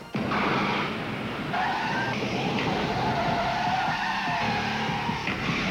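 Tires skid and squeal as a BMW 528e brakes hard with anti-lock brakes, a loud sustained screech over road and engine noise lasting several seconds, with no voices.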